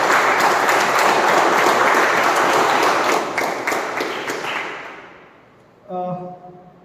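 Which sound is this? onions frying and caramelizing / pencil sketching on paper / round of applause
round of applause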